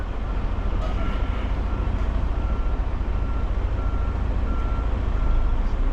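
A 53-foot semi truck reverses into a loading dock, its engine a steady low rumble throughout with a faint backup beeper sounding repeatedly beneath it.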